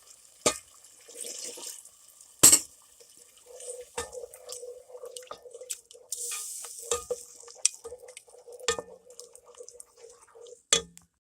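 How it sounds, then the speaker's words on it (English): Water poured slowly into a pan of seasoned chicken and broccoli mixture, with scattered sizzling, dripping and stirring sounds close by, broken by a few sharp clatters. "Then we're going to slowly add a cup of water to this."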